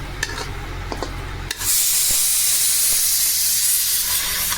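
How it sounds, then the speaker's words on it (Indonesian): Eggplant hits a hot pan for terong balado, seasoned with salt, coriander, chili powder and sugar, and a loud steady sizzle and hiss takes over after soft stirring clicks, continuing close up without speech. "Tinggal kita tumis aja."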